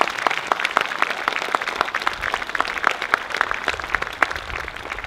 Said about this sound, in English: join me in a round of applause in thanking them for all they do